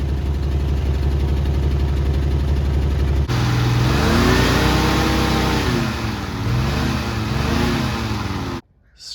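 A rusty 1973 Plymouth Scamp engine that won't idle runs loud and close with a rough, pulsing note. About three seconds in it revs up into uneven rising and falling surges, then cuts off abruptly near the end.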